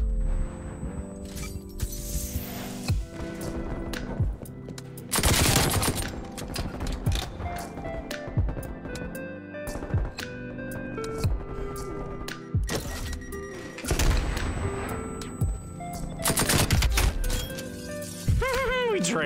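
A rapid-fire nail-gun-like weapon shoots in a Call of Duty Cold War match, giving bursts of sharp cracks and impacts amid busy game effects, with a player talking throughout.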